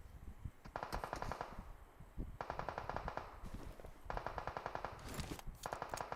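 Enemy machine-gun fire in PUBG Mobile crackles in several rapid bursts separated by short pauses, loud and close, with no talk over it.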